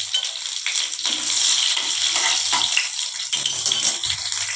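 Panch phoron and chopped green chilli sizzling in hot oil after frying bori, a steady bright crackling hiss with small pops, close and continuous, with no voices.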